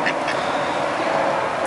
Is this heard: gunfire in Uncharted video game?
no